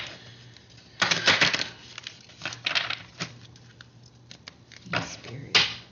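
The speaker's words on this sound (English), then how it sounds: "I am shuffling horrible today" Oracle cards from an African Goddess Rising deck being shuffled by hand in irregular bursts of crisp flapping and riffling, with quiet pauses between, close to the microphone.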